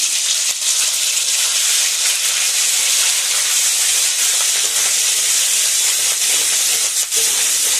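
Ground prawn paste hits a hot pan and sizzles in a loud, steady, close hiss that holds evenly throughout without pause or talk.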